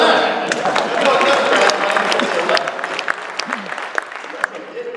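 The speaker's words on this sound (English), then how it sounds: "You can applaud for that." A debate audience at a Kennesaw State district congressional debate breaks into loud, sustained applause that fills the room, gradually thinning toward the end with a few sharper claps standing out.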